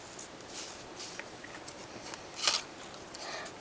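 Homemade drawing cards are shuffled in soft, quick riffles and light papery taps, faint and close, with one brighter snap partway through.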